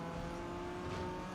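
Racing video game car engine revving hard and steadily, with two quick gear shifts briefly dipping the pitch before it climbs again, loud and close throughout.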